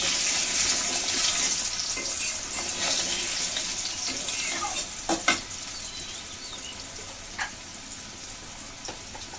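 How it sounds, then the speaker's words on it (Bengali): Potatoes frying in oil with whole cumin in a pan, a steady close hiss and crackle of frying with a few brief utensil knocks, no talking. "আলুগুলো ভালো করে ভেজে নেব।"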